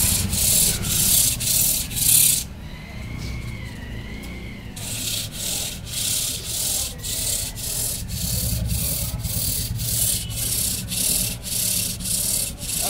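A wooden kite reel wheel is sanded by hand with sandpaper, giving loud rhythmic rasping strokes at a steady pace, with a short pause part way through.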